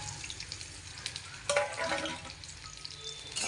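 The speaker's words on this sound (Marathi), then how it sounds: "मस्तपैकी हलवून घेते कांदा थोडंसं गुलाबी कलर येऊस्तोवर" Onion frying in a pan while being stirred, a soft continuous sizzle with a brief louder scrape and hiss midway, fairly quiet and close.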